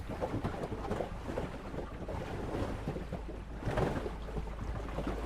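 Wind at sea buffets a Viking ship, steady gusty rushing and microphone rumble with waves and sail noise around, no voices.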